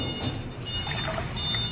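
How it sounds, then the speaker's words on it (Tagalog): Water splashes and trickles briefly as it is poured into a pot of chopped jackfruit while cooking, a close, steady liquid pour with no talking. "Tapos, lagyan mo ng tubig."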